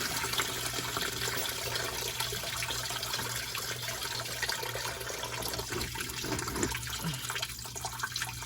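Coolant pours steadily from a 1973–79 Ford F-series truck radiator into a large drain pan, a continuous close splashing trickle that runs unbroken throughout, with no talk over it.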